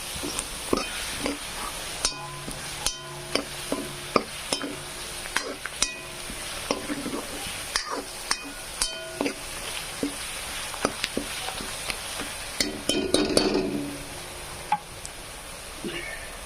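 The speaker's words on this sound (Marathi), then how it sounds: "आणि खडे मसाले पण यामध्ये छानपैकी असे फ्राय होत आहेत" Whole spices frying in a pan for veg pulao, a steady close sizzle broken by frequent sharp scrapes and taps of a utensil against the pan.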